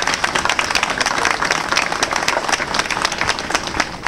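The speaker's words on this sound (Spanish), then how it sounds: "Démosle un aplauso allá atrás también." A congregation at Mass gives a sustained round of applause, dense overlapping claps throughout, fairly loud and close, with some crowd murmur mixed in.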